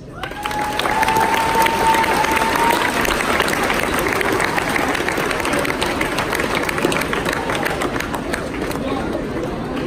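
Loud, sustained applause and cheering from a large crowd of Army and Marines audience members, steady and dense for the whole stretch, with crowd chatter mixed in.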